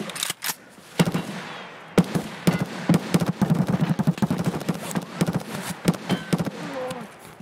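Gunfire rings out in Escape from Tarkov as a rapid string of loud, sharp shots, fired in bursts and single cracks at close range, with brief voices between them.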